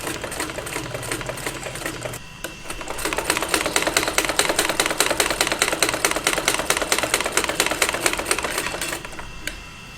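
A sewing machine stitching suit kameez fabric whirs with a fast, even rhythmic clatter that starts up after a brief quiet moment, runs steadily for several seconds, then slows and stops.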